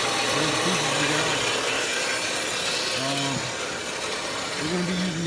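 A bandsaw cuts wood at a 45-degree angle in a furniture workshop, a steady close rasping drone throughout with a voice speaking intermittently over it.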